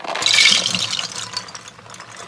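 Soaked beans for a crockpot 15-bean soup are poured into a colander, giving a loud, dense rattle and patter that peaks early and then thins into scattered trickles.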